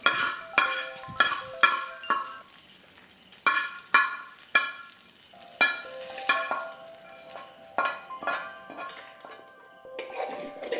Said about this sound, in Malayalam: കടുക് വറുത്ത് നമ്മൾ ഇതിലേക്ക് ചേർത്ത് കൊടുക്കുകയാണ് ചെയ്യുന്നത്